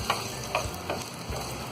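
Chopped garlic sizzles in hot oil in a pan for dal chawal, with a steady crackling fry and a few soft scrapes from stirring every half second or so, heard close up with no talking.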